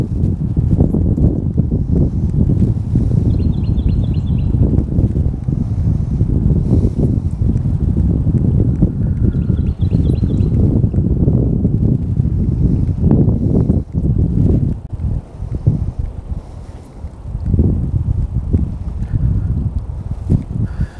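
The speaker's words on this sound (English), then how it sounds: "But I can see down there that wind's pretty wicked. Like a wind tunnel coming down through there." Strong wind gusts roar and buffet across the microphone beside a fishing spot, loud and continuous for the whole stretch with no speech.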